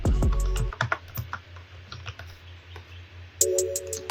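Computer keyboard keys clatter in a steady run of light, close clicks while text is typed into a graphic design program, with a slightly louder burst of typing near the end.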